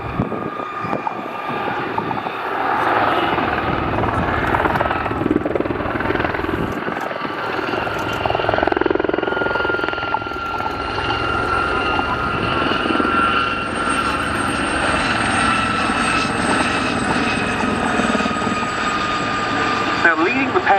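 An ex-Royal Air Force Gazelle HT3 helicopter flies at an RAF air show, its rotor and turbine droning loud and continuous throughout while a commentator talks over a public address system.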